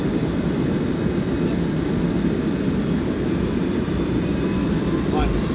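An aircraft departing East Midlands Airport gives a loud, steady, broadband roar that holds evenly close by for the whole stretch without fading.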